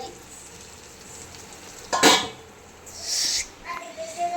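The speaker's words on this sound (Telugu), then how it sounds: "గుత్తి వంకాయ బాగా వేగాలి కదా మసాలా అన్నీ పట్టేసి వేసా" Stuffed brinjal curry fries in oil, a soft, steady sizzle in the background while voices, including a child's, briefly speak and a sharp clatter of cookware cuts in partway through.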